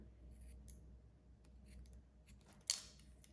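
Scissors snip hair beside the ear during a pixie cut, giving a few quiet, close metallic clicks spaced apart, then one louder, brighter snip near the end over a low background hum.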